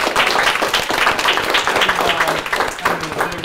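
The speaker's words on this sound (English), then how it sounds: "So we're going to give them a round of applause and thank you." A film crew applauds on set as colleagues leave, with dense, steady clapping throughout and voices cheering over it.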